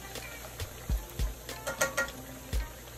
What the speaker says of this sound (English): the oil is nice and hot, ready to go. Time to add our fish